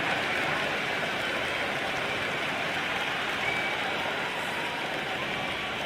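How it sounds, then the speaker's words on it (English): A crowd in the stands at an India vs England T20 cricket match keeps up a steady, loud roar of cheering and applause that fills the whole stretch without a break. "There's a buzz, a real buzz coming from the stands."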